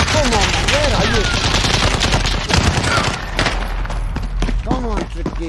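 Bursts of rifle and machine-gun fire from a shooter video game crack loudly and repeatedly, overlapping with in-game callouts and a player talking over the shooting.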